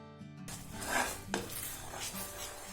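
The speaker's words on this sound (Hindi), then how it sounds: "जब तक ये थिक नहीं हो जाता तब तक हमें ऐसे चलाते रहना है" Milk powder batter for peda stirred in a pan, a spoon scraping and clinking against metal over a faint sizzle, a short burst of close kitchen noise.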